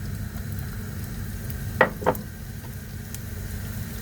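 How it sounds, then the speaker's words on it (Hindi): Finely chopped onions fry in a couple of tablespoons of oil in a pan, a soft, steady sizzle close by, with two brief clinks of a utensil against the pan partway through. "और साथ ही 1 टीस्पून में इसमें लहसुन का पेस्ट डाल के इन दोनों को फ्राई कर लूँगी"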